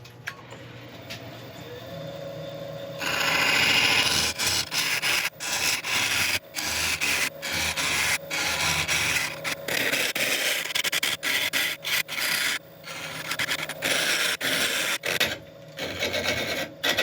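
A burl wood bowl being hollowed on a lathe gives a harsh scraping, rasping cut that starts after a quiet hum, then comes in repeated bursts broken by short pauses as the tool is pulled away.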